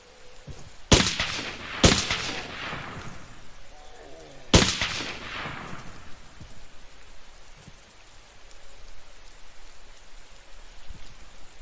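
Three sharp rifle shots in the video game Terminal, loud and close with echoing tails, the first two about a second apart and the last after a pause, then a low hissy ambience.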